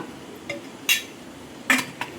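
A few sharp metallic clinks and clatters as a lid is set onto a pot of country chicken biryani, over a quiet room background.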